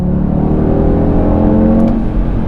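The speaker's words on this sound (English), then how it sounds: "And the 5-cylinder sounds so good." A 2020 Audi TT RS five-cylinder engine hums and revs steadily, loud and close, with a rich warbling drone and no talking.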